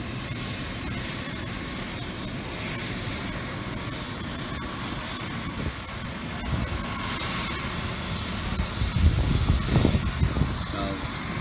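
Continuous rotor and engine roar of a helicopter, steady and fairly loud, growing rougher and louder toward the end, with faint background voices.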